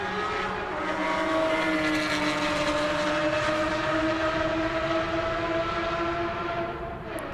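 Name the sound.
Porsche GT4 race car driving down the front straight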